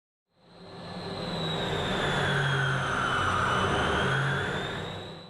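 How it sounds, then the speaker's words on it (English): An L-29 Super Delfin jet fitted with a Pratt and Whitney JT-12 engine launches at Reno Stead Airfield, its turbine swelling quickly from silence into a sustained loud whine with rising and falling high tones and broad roaring rush. "an L-29 outfitted with a Pratt and Whitney JT-12 engine"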